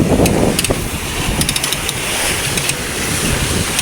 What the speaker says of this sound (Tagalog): Oh, lalaki ng alon oh, mga kabiwas.